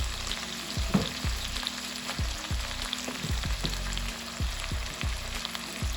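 Cabbage and carrots fry in a hot pan with pork fat for yakisoba, a constant loud sizzle broken by a steady rhythm of scraping stir strokes roughly every half second, close up, with no talking.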